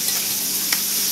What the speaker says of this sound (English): I don't want it to be old frying, people frying stuff all in the background.